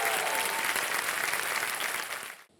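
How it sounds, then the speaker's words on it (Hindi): Studio audience on a televised quiz show bursts into loud, full applause that holds steady, then drops off abruptly into near silence at the end. "तालियां बज जाए इनके लिए एक बार फिर"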